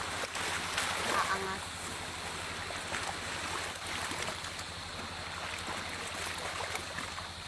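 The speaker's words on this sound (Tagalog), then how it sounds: "May papaalis na bangka, kaya ganyan maingay." A boat leaves from the shore out at sea, its motor a steady low drone under wind and washing waves, with a voice briefly heard nearby.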